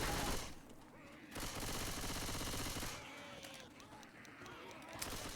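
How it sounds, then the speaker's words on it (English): Shotgun blasts in a tournament match of a video game, a few dense bursts of gunfire over busy game noise and a voice talking, with loud stretches separated by a brief lull. "Got a shotgun."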